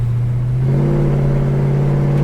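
A loud, close Holden HK car engine accelerating, its deep steady drone rising slightly in pitch and holding.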